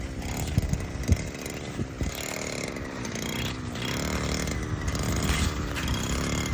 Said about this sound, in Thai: ตัดแต่งหญ้าให้สวยงามค่ะ